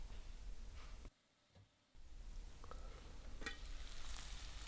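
Lyonnaise potatoes caramelizing in a covered pan give off a soft, steady sizzle with faint crackles, quiet and close, broken by a brief near-silent gap before the frying resumes.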